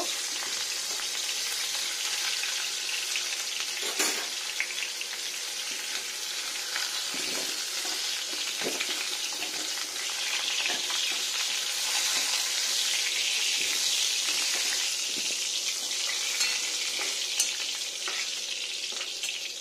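Food frying in a pan with mustard oil gives a continuous hiss and crackle for a long stretch, with occasional stirring scrapes and clicks and no talk.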